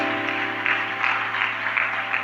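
A church congregation applauds during a Spanish-language worship service, a steady wash of clapping with slight swells, moderately loud and continuous, with a faint sustained musical tone beneath.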